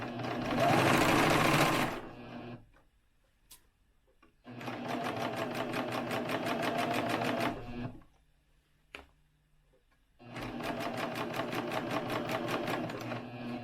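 A serger stitching a reversible fabric face mask runs in three steady bursts, a fast rhythmic mechanical whir close by, with short quiet pauses between runs.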